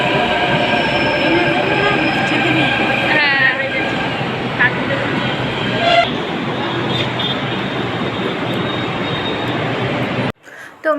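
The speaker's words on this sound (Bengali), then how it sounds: "তো মেট্রো চলে এসেছি।" A metro train pulls into a station with a loud, sustained rumble and metallic wheel squeals rising and falling, then the roar cuts off abruptly near the end.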